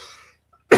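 A single sharp cough bursts out loud and close at the end, after a stretch of faint background chatter and near silence.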